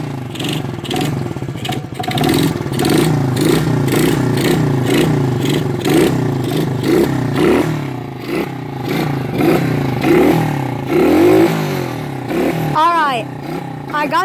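A 110cc SSR pit bike engine revs up and down repeatedly, loud and close, its pitch climbing and falling in quick bursts with someone talking over it.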